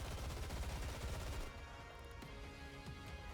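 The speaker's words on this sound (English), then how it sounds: "Gunfire unmistakably Snow White's erupts from behind." Rapid automatic gunfire rattles in the Nikke video game, a dense stream of quick shots for the first moments that then drops back to quieter scattered firing, faint overall.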